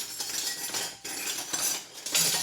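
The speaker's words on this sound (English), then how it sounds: "I have a boatload of dishes to do here." Cutlery and pots clink and clatter continuously during a large pile of household dishwashing, with brief pauses between bursts of bright metallic rattling, close and moderately loud, no voices.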